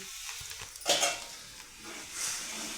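Chickpea greens sizzle in a hot kadhai while a utensil stirs and scrapes, with a few metallic clinks against the pan.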